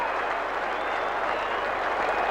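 A big football crowd at a Carlton versus St Kilda match applauds and roars after Alex Jesaulenko kicks a goal, a thick, continuous wash of distant clapping and cheering with no break.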